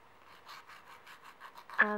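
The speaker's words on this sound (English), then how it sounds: "the next thing you'll need to do is file your nail" Short rhythmic rasping strokes of a file shaping a short stiletto acrylic nail, a quiet steady scratching back and forth, close up, with a brief louder tonal sound at the very end.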